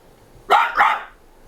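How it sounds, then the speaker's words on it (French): A dog in a theatre hall gives a double bark, two quick loud woofs close together against a quiet room. "Quel est le crétin qui s'est permis d'amener un chien dans une salle de théâtre?"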